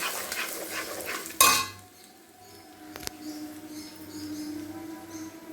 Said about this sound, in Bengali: আর একটু ধনে গুঁড়ো আর একটু হলুদ, এই যে মশলাটা একটু ভেজে নিলাম